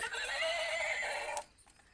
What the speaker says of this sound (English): beautiful horse sound guys